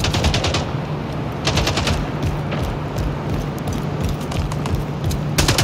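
Rapid SMG fire from the Splitgate video game rattles in dense, continuous bursts with only short gaps, loud and close, with no talk.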